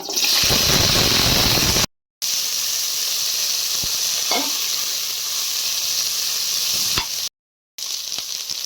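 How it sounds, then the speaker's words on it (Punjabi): Cauliflower frying in hot oil, a loud steady hiss and sizzle that stays close and continuous, broken by two short silent gaps, with no talking. "ਹੁਣ ਤੇਲ ਗਰਮ ਹੋ ਗਿਆ ਇਹਦੇ ਵਿੱਚ ਗੋਭੀ ਪਾਵਾਂਗੇ ਇਹਨੂੰ ਫਰਾਈ ਕਰ ਲਾਂਗੇ"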